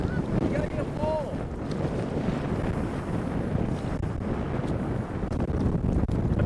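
Strong wind buffets the microphone on a sandy Texas beach at Yarborough Pass, a constant loud rumbling roar with faint surf underneath and a voice briefly audible.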